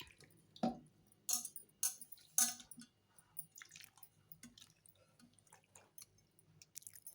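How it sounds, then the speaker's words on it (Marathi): Two mangoes are rinsed in clean water, giving scattered quiet splashes and drips at an irregular pace, close up and with no talking. "स्वच्छ पाण्याने धुवून घेऊन कोरडे करून घ्यायचे"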